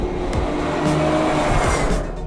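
An Aston Martin V12 Vantage S roars loud and close while cornering hard, its engine note steady and strong, with a hint of tire scrub and no speech.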